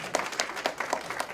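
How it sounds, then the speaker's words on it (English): An audience clapping hands for a church children's Bible lesson on Barnabas, heard as a short, moderately quiet patter of scattered individual claps. "So if everybody clap their hands,"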